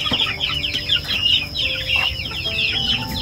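Chickens on a large farm garden, including laying hens kept alongside ducks and geese, cluck continuously and loudly up close, a busy overlapping chatter of short calls with no talk.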